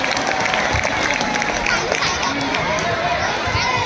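Applause from the audience at a school annual day ceremony, a welcome for the guests. The clapping is dense and continuous, spread across a crowd, with murmuring and babble mixed underneath.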